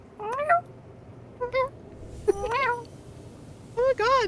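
A person imitates a cat with several short, pitched meows, spaced apart and close to the mic, over a faint background hum.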